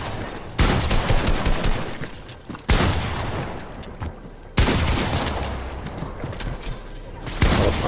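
Rapid bursts of automatic gunfire and loud blasts in a Fortnite-style battle royale shooter, several heavy volleys starting abruptly through the stretch, close and dense with no pauses of quiet.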